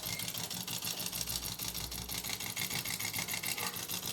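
A sewing machine stitches the curved neckline of a suit, its steady fast needle rhythm whirring continuously at close range with no voices.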